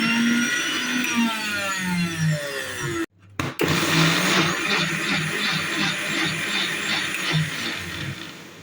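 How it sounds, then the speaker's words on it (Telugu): A kitchen mixer grinder whirs loudly as it blends watermelon pieces in its jar, a steady high motor whine that cuts out briefly mid-way and then resumes at full power. "మెత్తగా మిక్సీ చేసుకుందాం"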